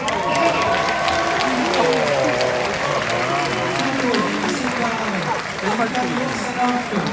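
An audience at the Gérardmer 2026 fantastic film festival awards applauds, sustained crowd clapping running under overlapping voices and chatter throughout.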